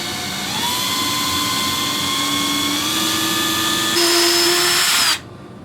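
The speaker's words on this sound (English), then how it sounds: "I've got the drill bit for the 8/32 tap chucked up in my cordless drill here" A cordless drill whines loudly and steadily while drilling a crawler link for an 8/32 tap, rising slightly in pitch as it runs, then revs higher before stopping abruptly.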